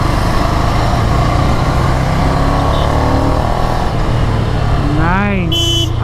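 Ducati Scrambler 800 2G with its air-cooled engine under way in sports mode, a steady close engine drone and wind throughout, with a rider talking over it.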